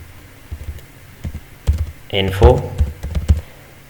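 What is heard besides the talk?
typing on a computer keyboard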